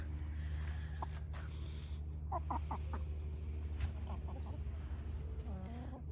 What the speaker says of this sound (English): Here's the chickens and the turkeys.